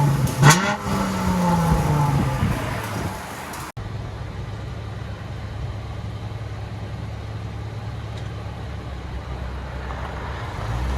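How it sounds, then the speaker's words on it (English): A 2013 Dodge Challenger V6 with Flowmaster exhaust, parked, gives a rising rev near the start and then settles into a steady low idle rumble, close and alone. "put it in park and give it gas again"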